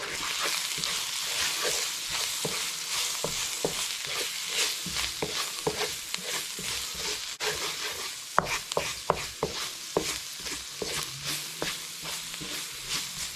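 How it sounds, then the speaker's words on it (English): Garam masala and ground cumin powder sizzle steadily in hot oil for a Fijian coconut fish curry, with repeated scraping stirs of a spoon through the pan and a few sharper knocks. "I'm just going to fry off that powder just quickly, just for a minute or so."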